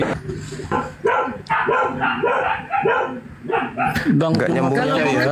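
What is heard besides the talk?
dog barking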